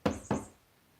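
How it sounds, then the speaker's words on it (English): A cat toy knocks twice in quick succession, two sharp close hollow raps about a quarter second apart, then silence. "That was a cat toy."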